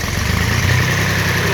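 A Farm Pro 25 hp diesel tractor engine runs close and loud at a steady, rumbling idle, its low chugging pulse continuous throughout with no voices over it.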